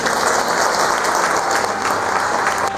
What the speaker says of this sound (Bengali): আজকে শুধুমাত্র তৌহিদ আফ্রিদির বাবার জন্য অনেক জোর একটি করতালি